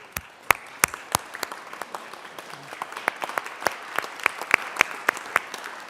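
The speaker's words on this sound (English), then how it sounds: "maybe we could give them a shout out or a round of applause" Scattered applause in the Colorado Senate chamber: sparse, distinct hand claps from a modest number of people, light and uneven, continuing for about six seconds over a quiet room.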